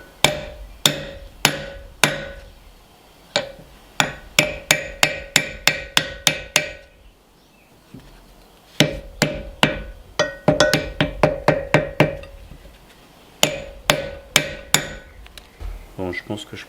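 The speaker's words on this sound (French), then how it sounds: "Et un bon marteau, juste pour le démarrer." Hammer blows on a size 41 socket, tapping a part into a Jeep front axle during a rebuild, ring out in quick sharp bursts with short pauses between, loud and close and metallic.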